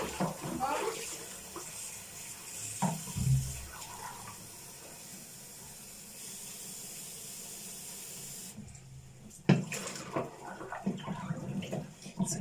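Clean tap water runs steadily in a home kitchen while dishes are washed, a soft continuous hiss with brief clatters, cutting out near the end before a few louder knocks.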